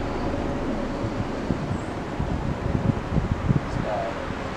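Steady outdoor wind rumbles and buffets the microphone, with low gusty noise swelling and falling throughout and no voices.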